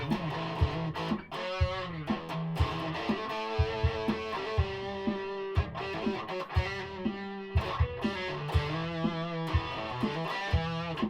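Chapman ML3 Pro electric guitar strummed through heavy distortion, a rhythmic riff of chugging chords and ringing notes with effects, loud and continuous, played alone without any talking.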